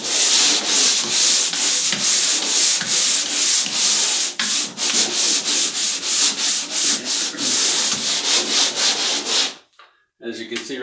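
Drywall joint compound on bedroom seams is sanded lightly by hand, producing close, rhythmic scraping strokes, loud and regular, that stop abruptly near the end with a few final rubs.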